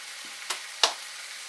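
Bacon frying in a pan, a steady soft sizzle with a couple of sharper crackles and pops standing out over the constant hiss.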